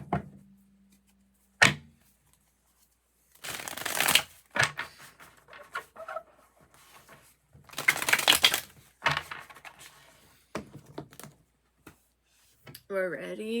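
Tarot cards are shuffled by hand in several rapid riffling bursts separated by pauses, close to the microphone, with a voice speaking between shuffles.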